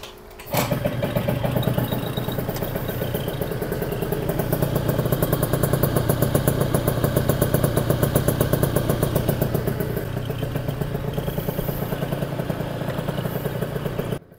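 Piaggio Zip scooter fitted with a Stage6 exhaust runs steadily for the full stretch, its mid-pitched engine note loud and close with a fast, even clatter and no talk over it.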